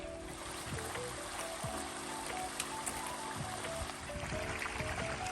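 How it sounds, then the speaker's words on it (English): Small snow-melt stream trickling beside a mountain hiking trail, a steady close babble of running water with faint scattered drips and no talk. "There are tons of little snow melt streams all through this area."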